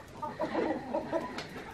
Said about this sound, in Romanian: Hai să vă arăt colecția mea de găini, vreți?